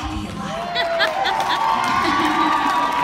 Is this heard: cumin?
no